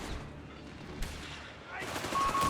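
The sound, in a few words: mortar fire hitting a Flak 30 in Company of Heroes 3 video game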